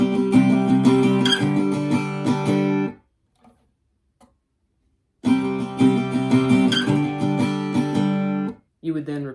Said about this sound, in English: And so all together, section 1 of line 1 would sound like this.